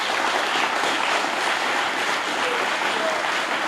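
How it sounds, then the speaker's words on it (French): Dense, continuous applause from an audience at the closing of an artificial intelligence summer school, an even wash of clapping throughout with no pauses. "je voudrais que tout le monde applaudisse"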